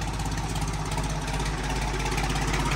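A car engine runs at a steady idle after being restarted, a continuous low rumble with even pulsing, close and fairly loud, alone without talk.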